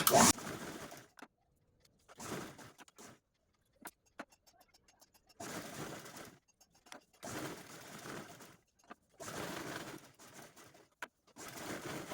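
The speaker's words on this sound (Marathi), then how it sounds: "यावरती मेन फॅब्रिक ठेवून आपण क्विल्ट करून घेऊ" A sewing machine quilting main fabric onto lining, running in several short bursts of stitching separated by quiet pauses, close and moderately loud.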